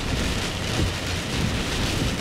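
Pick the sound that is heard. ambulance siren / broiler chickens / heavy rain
heavy rain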